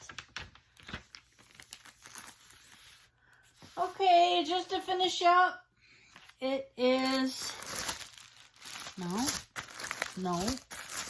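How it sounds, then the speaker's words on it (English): Paper crinkles and rustles in short bursts between bits of quiet speech, close by and moderately loud. "I did not lay the paper down very well though, so let me fix that."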